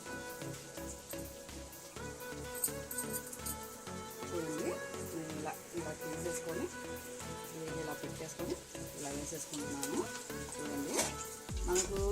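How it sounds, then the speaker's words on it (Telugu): Garelu, South Indian lentil fritters, frying in hot oil: a steady, crackling sizzle that runs throughout, under background music and an occasional voice. "మనం మంచిగా ఫ్రై చేసేసుకున్నాం ఆయిల్లో"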